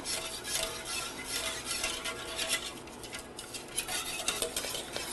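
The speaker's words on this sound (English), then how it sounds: "we are going to stir it occasionally while we bring it up to a boil" A utensil scrapes and swirls around a pot of potato sauce in a continuous stirring rhythm, with a soft bubbling simmer underneath.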